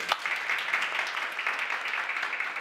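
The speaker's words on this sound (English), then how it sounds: "So I just want to give him a round of applause." An audience at a talk applauds for Dr. Wallace, a steady, moderately distant wash of clapping with no voices over it.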